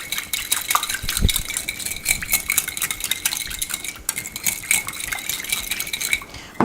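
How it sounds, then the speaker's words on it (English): Olive oil being whisked into a bright pink salad dressing for a Greek salad, with steady fast scraping and clinking of a whisk against a bowl throughout, close and continuous with no talking. "Finally, let's add in our ounce of olive oil. Whisk it together to this beautiful bright pink color."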